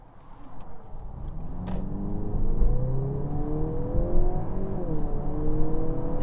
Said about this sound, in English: I think it's the sportiest plug-in hybrid sound I think I've heard